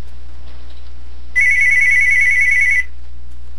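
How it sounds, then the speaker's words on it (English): A mobile phone ringtone sounds once, a bright electronic tone lasting about a second and a half, loud and close against a quiet background with no talking. "Oh, my phone's ringing."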